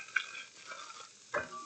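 Fried ground beef mixture being stirred in a pan, with a few soft scraping sweeps and faint moist sizzling, close and quiet.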